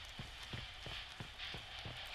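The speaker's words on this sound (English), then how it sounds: "Making very loud footstep noises in the process." Footsteps from a character sneaking in a video game, a steady run of soft thuds about every third of a second, faint and close, with no talking.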